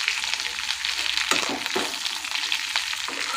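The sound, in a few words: stirring okra frying in oil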